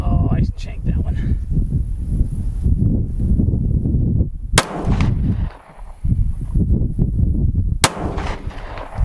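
Two sharp, loud handgun shots from an M&P9L fitted with a red dot, fired outdoors at targets 100 to 170 yards away, stand out above a steady rumbling background.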